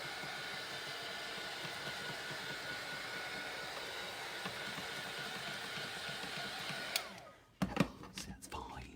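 A heat tool blasts a steady, loud stream of hot air over pigment ink for about seven seconds, then cuts off, leaving faint handling clatter.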